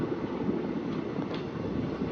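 A train rumbles steadily across the Saraighat rail-cum-road bridge in Assam, a loud, continuous roar with no break and no voices.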